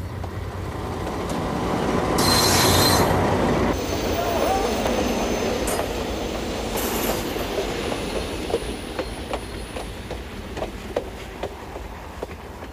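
A working train arrives at the San Diego Railroad Museum in Campo, California, rolling in with a loud rumbling swell, then steady clickety-clack of wheels over rail joints as it passes close by.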